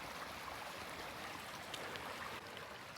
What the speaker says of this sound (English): Nice little creek here, just actually by my campsite